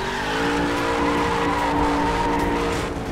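A Mustang drifting in The Crew racing game, its tires squealing in a loud, sustained, wavering whine over steady engine noise for the whole stretch, with no talking.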